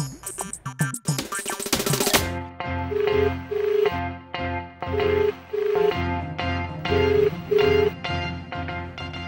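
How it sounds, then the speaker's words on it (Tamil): A mobile phone ringtone melody repeats over and over while a call goes unanswered. It is clear and steady and follows a brief burst of noise at the start. "போனு பேசுறதுக்கு தான் இருக்கு ரிங்டோனை கேட்கறதுக்காக இல்லை"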